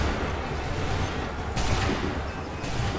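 A sustained volley of musket gunfire in Assassin's Creed 3, dense and continuous crackling that keeps up throughout with sharp, louder surges partway through and again near the end.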